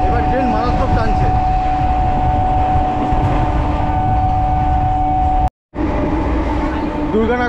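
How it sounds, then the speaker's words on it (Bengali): A Majerhat–Hasnabad local train runs hard near Birati, its wheels and motors giving a loud, steady roar with humming tones, cut by a brief dropout near the end, while a voice speaks over the din. "আর ট্রেন কিন্তু মারাত্মক টানছে, এতক্ষণ টানছিল না, এবার ট্রেন মারাত্মক টানছে।"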